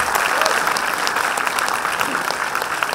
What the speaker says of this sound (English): Let's have a round of applause for all of our debaters.